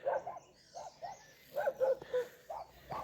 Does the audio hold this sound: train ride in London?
no